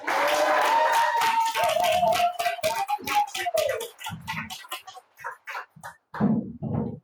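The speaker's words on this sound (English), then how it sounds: "Round of applause, please." An improv comedy audience applauds and cheers with a rising whoop, then the clapping thins out into scattered, fading claps.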